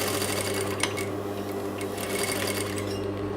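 A sewing machine stitches a shaped unlined pocket with a steady, close, continuous mechanical whir and rapid needle chatter, heard alone.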